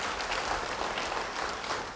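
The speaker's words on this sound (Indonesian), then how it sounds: "Yang senang beri tepuk tangan bagi dia." An audience at a church sermon applauds steadily for about two seconds, a dense, even wash of clapping heard from a moderate distance.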